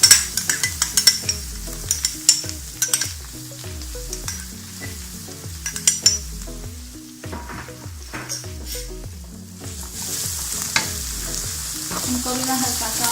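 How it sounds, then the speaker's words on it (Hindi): Onions frying with garlic-ginger paste for masala seekh kebab, a steady close sizzle broken by repeated rhythmic scraping and stirring strokes of a spoon against the pan, with no talking. "इनको भी मैं हल्का सा फ्राई करूँगी"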